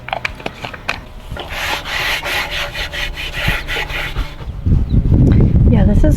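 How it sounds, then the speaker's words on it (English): A rag rubbing linseed oil onto old wood: close scratchy, swishing strokes in an uneven rhythm that grow louder and denser toward the end. "Now, supposedly, I just put this on a rag and rub it around."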